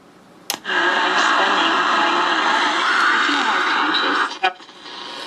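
A 1957 Admiral model 237 transistor radio, made in the USA, plays steadily at close range for several seconds after a sharp click, its broadcast sound carrying voice-like content before cutting off with another click.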